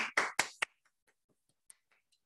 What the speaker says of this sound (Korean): 다시 한번 박수 보내드리면 감사하겠습니다